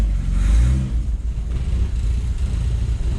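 A Volvo 960 with a swapped carburetor revs hard in first gear, its engine roaring loud and close before settling into a steady rumbling drone.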